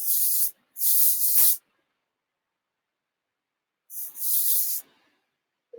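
Three sharp bursts of alcohol ink blending solution sprayed from a pump bottle onto an abstract floral painting, two quick ones close together, then a pause and a longer double spray, close and loud.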